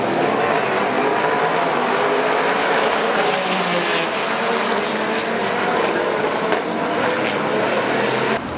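Dodge SRT Viper GT race car engine roaring loudly and steadily at the Baltimore Grand Prix street circuit, a dense, sustained high-revving blare with no talk over it.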